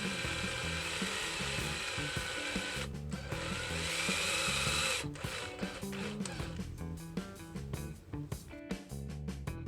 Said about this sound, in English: drilling out the post to accept the 3/16 inch long 172 button head screws